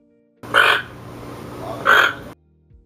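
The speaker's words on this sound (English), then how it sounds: "Toco Toucan." A Toco toucan gives two hoarse, croaking calls about a second and a half apart, close and fairly loud, with a low rough rasp running between them.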